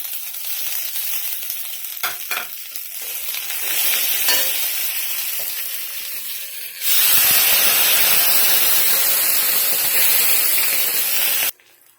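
Spices hit hot oil with fried onions in a pan while cooking a cabbage dish, giving a steady frying sizzle with stirring scrapes, then a sudden louder burst of hissing sizzle that holds strong before cutting off.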